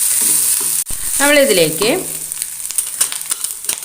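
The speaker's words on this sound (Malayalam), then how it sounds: "അത് നമുക്ക് നല്ലോണം ഒന്ന് ചുവക്കെ ഒന്ന് വറുത്തെടുക്കാം." Garlic and small shallots fry in a pan with a steady hiss and crackle while a spoon stirs them. A person speaks briefly over the sizzle.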